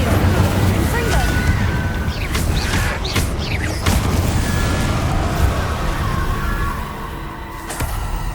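Confringo fire spells cast in Hogwarts Legacy, a dense crackle of bursts and booms layered over a constant rumbling game soundscape, with a voice calling out spell names throughout.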